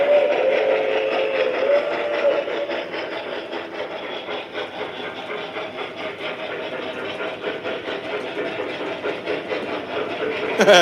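A steam locomotive sits puffing at low volume, with a steady, soft chuffing rhythm and mechanical hiss continuing evenly throughout, no voices over it.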